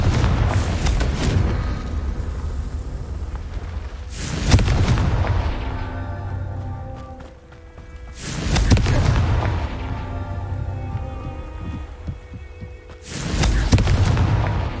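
Fire spell explosions from Hogwarts Legacy, four heavy booming blasts spaced a few seconds apart, each with a loud low-end punch followed by ringing, tonal magical decay, no talking.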